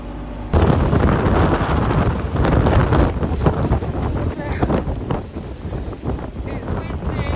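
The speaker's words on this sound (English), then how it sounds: "It's windy, it's rainy" Strong wind buffets the microphone with a constant roar, and rain patters throughout; a voice speaks briefly beneath the noise.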